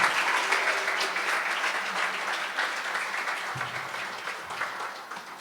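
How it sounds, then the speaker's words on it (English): A dense, sustained round of applause from an audience at a book launch fills the room, holding steady before gradually thinning toward the end. "Can we have a huge round of applause?"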